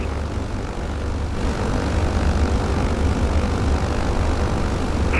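Steady propeller drone from a BN2 Islander taxiing on the runway, a continuous loud engine hum heard from inside the aircraft.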